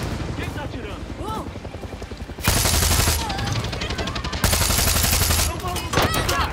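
Far Cry 6 game gunfire, rapid machine-gun bursts and fusillades crackling loudly with heavy volleys from about 2.5 s and again near 4.5 s, mixed with chirping game sounds and a voice speaking underneath.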